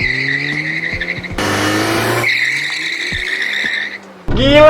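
A VW Golf GTI MK6 two-door launches hard with wheelspin: a loud, close engine roars while the tires squeal in a harsh burst, then the revs drop, briefly go quiet, and surge again.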